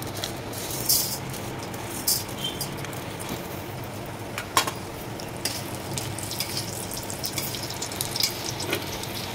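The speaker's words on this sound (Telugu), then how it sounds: "ఇప్పుడు ఆయిల్ వేడెక్కింది, మినపప్పు వేసుకుంటున్నాను" Urad dal spits and crackles in hot oil for a poha mix, a steady close sizzle dotted with small pops throughout, with no talk.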